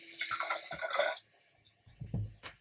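Water is poured into a yogurt blend while preparing homemade yoghurt, a short close-up splashing pour followed by a few softer drips and a low clunk.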